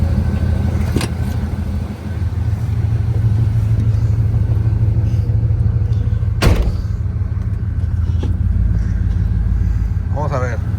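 An old OBS Ford pickup truck drives on a test drive, a steady low engine and road rumble heard from inside the cab, with a couple of sharp knocks and a voice speaking briefly near the end.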